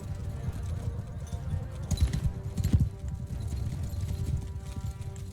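Horse hooves clip-clop in Mount & Blade 2: Bannerlord as a steady, fairly close run of low thuds, with a brief louder cluster in the middle over a soft game background.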